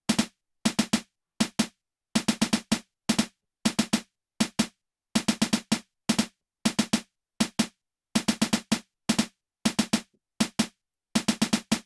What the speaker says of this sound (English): So the snare by itself sound like this.